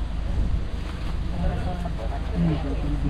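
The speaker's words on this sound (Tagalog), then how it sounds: "Grabe ang lakas ng hangin dito." Strong wind buffets the microphone with a constant low roar while people talk nearby on a flooded road.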